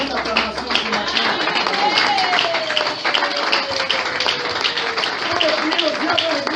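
A church congregation clapping and applauding in a continuous busy patter, with voices talking and calling out over it.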